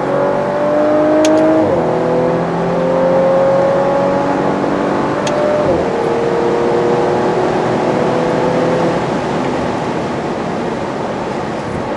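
A 2018 Audi RS4 B9 revs hard around the Paul Ricard circuit, its engine note climbing and dropping with gearshifts. The loud, continuous drone fills the cockpit and hits the limiter under heavy torque.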